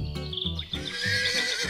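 A horse gives one loud, close whinny, a shaky rising and falling neigh that runs for under two seconds with no talk.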